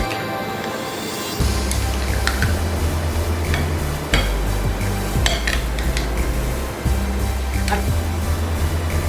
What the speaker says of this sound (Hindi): इसे अच्छी तरह मिक्स कर दें।